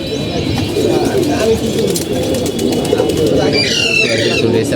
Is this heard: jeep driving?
no